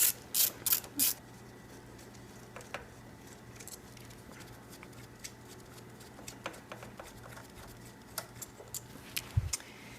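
A small wrench or ratchet works two 8 mm mounting bolts loose on the ignition coil of a John Deere lawn tractor, giving sparse close metallic clicks and ratcheting ticks over a low steady hum with no talk.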